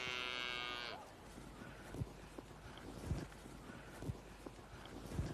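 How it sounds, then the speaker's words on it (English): A Longhorn bull lets out one long, droning moo at the start that cuts off after about a second, then gives way to faint wind and scattered outdoor knocks. "A bull."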